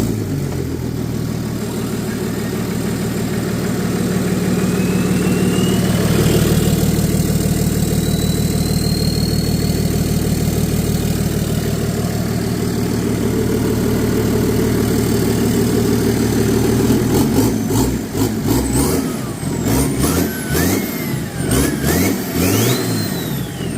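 An M57 diesel swapped into a 2012 Jeep Wrangler JK cranks over and settles into a loud, steady running drone, then revs in repeated rising and falling bursts near the end, close and unbroken by voices.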